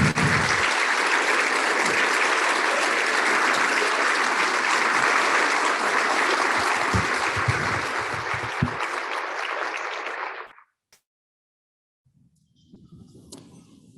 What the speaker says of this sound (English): Let's give a round of applause to all of our educators and students.